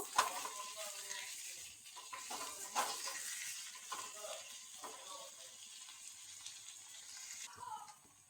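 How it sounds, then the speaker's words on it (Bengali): Potatoes and onions frying in a pan, a faint steady sizzle with light scraping stirs and occasional clinks, quiet and close. "পেঁয়াজের সাথে আলুটাকেও ভেজে নেব"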